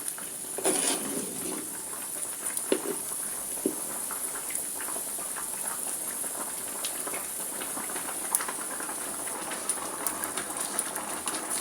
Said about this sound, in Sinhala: හොද දැන් උතුරගෙන එන්නේ